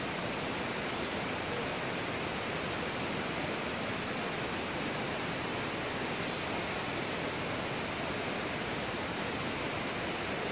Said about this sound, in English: I hear the water in the river behind me.